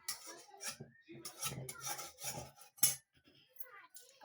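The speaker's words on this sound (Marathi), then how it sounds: "कढई जरा धुवून घ्यायची खरडून." A kadhai being scraped clean and washed, heard as close, irregular metallic rasping strokes and rubbing bursts with short pauses, plus a sharp clank near the end.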